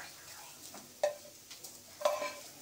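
Onion roasts in a pan until reddish, with a faint sizzle under soft, scattered scraping and clinking from stirring. The sound is quiet and close, with no voices.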